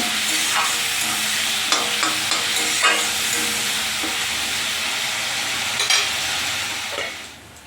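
Steady loud sizzling of ground spices frying in a pan, with occasional scraping clicks of a spoon stirring, close up and continuous.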